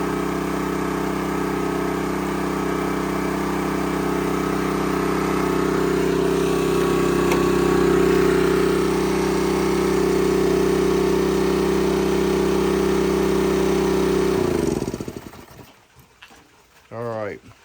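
A Honda EX1000 generator engine runs steadily with no load attached and its output frequency slightly high, a loud constant hum that cuts off near the end, followed by quiet and a short voice.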